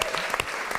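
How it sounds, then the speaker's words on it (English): A gathering of people gives a short round of applause, a brief burst of clapping at close range. "So I think a round of applause."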